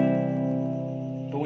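A single guitar chord played cleanly with correct fingering rings out steady and sustained, close and clear, fading slightly before a soft shift at the end.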